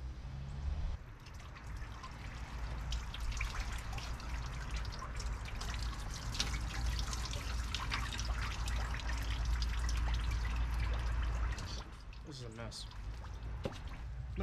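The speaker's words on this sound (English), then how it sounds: "We're gonna spill so much coolant out again." Engine coolant splashing and trickling steadily from a Jeep, with dripping and pouring sounds close by and some background noise.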